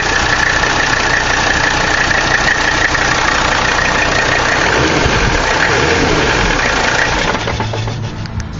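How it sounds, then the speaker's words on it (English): An '81 Mercedes 300CD turbo diesel coupe engine runs close up, a loud, steady clattering idle with rapid knocking texture that eases slightly near the end. "so that's the engine running"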